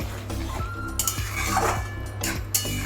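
Shukto vegetables in a pot are stirred after milk goes in, with rhythmic spoon scrapes and clinks against the metal pot, close and fairly loud, over a gentle simmer.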